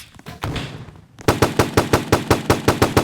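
Gunfire from the Forteresse video game: a few scattered shots, then a steady rapid burst of about a dozen loud, evenly spaced reports, close and punchy, with no talk.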